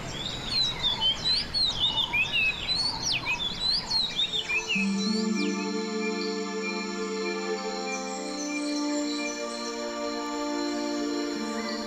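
Wild birds in Sri Lanka sing with rapid, bright chirps and tweets over the first few seconds, then a steady sustained tone takes over with insect-like buzzing in the background.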